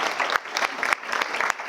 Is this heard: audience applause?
yes